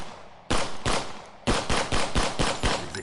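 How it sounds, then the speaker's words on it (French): A pistol fires in a fast burst: two sharp, close shots, then a rapid string of about six more cracks, each loud and echoing, with no voices over them. "Le pistolero dégaina à une vitesse aveuglante et tira 12 fois."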